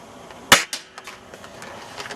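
A single sharp, close shot from a CYMA M1 Carbine airsoft rifle, a crisp snapping pop followed by a quick lighter clack and faint rattles as the BB travels toward a bin outdoors.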